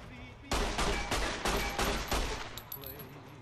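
Securitron robot gunfire in Fallout New Vegas, a close, loud run of about six evenly spaced heavy shots over roughly two seconds, then fading to quieter game sounds.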